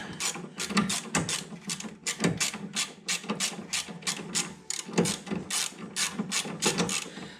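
Socket wrench on a wobble extension turning a 13 mm bolt, a rapid run of close ratcheting clicks in quick bursts, steady and fairly quiet, no talk.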